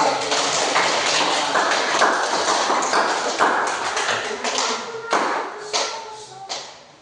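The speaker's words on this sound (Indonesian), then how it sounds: "aplaus untuk kelompok 3" Classroom applause for a student group in an elementary Indonesian-language lesson, a dense burst of many hands clapping close by that thins out and fades toward the end.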